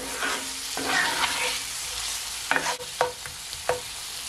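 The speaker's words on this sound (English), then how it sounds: "I'm just gonna allow this starfish to saute for at least 1 minute, okay?" Saltfish for Jamaican ackee and saltfish sautéing in a pan, a steady close sizzle with a few sharp scraping stirs near the end, no voices.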